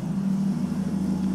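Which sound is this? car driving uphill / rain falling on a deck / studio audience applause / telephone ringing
car driving uphill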